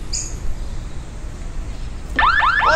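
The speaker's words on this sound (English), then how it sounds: "you've put this anti-theft alarm on your scooter" Faint hiss and a brief chirp, then a loud electronic anti-theft alarm from a smart bike tail light on a scooter abruptly starts, warbling in rapid sweeping tones near the end.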